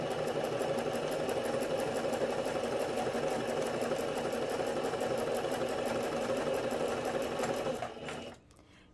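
Sewing machine running steadily while stitching ribbon trim on a tutu, a close, loud, continuous rapid whir with even needle rhythm that winds down and stops near the end.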